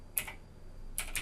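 Two short bursts of typing on a Windows 10 computer keyboard, quick clicky keystrokes, close and fairly quiet, separated by a brief pause.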